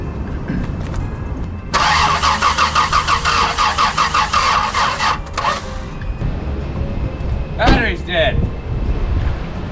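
A 1987 Toyota Land Cruiser with a 2F engine, unstarted for seven years, cranks loudly in a rhythmic chug for a few seconds, then settles into a rough running rumble, with a brief voice near the end.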